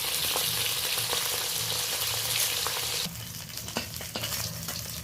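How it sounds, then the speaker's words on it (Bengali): Pabda fish, three pieces, shallow-frying in oil in a wok, a dense close sizzle that drops in loudness partway through, with a few stirring scrapes and taps. "এইভাবে ভেজে নিতে হবে পাবদা মাছগুলো"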